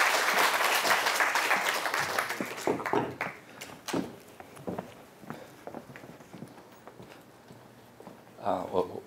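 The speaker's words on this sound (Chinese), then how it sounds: "那我们就来用热烈掌声来欢迎文亮老师" Audience applause welcoming a guest teacher at a National Taiwan University new faculty workshop, a loud burst of clapping at the start that thins into scattered claps and shuffling, with a short swell near the end.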